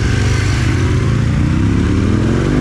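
A 2004 Aprilia RSV 1000 Factory motorcycle engine runs loud and close, a steady, throbbing mid-pitched growl that holds without pause for under three seconds.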